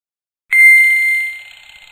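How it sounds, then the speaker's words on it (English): An electric bell, wired to a switch in a school science demonstration, gives one loud, clear metallic ding after a moment of silence, ringing close and then fading over about a second. "Close the switch to operate the bell and observe the contact more closely."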